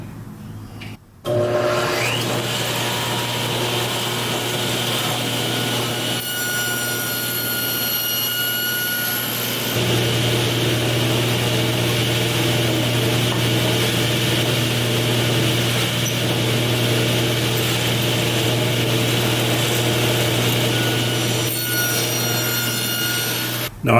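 A table saw with a tenon jig cuts an angled groove in wood for an arched mirror frame, a loud steady whine with a constant hum running for over twenty seconds and a brief change midway.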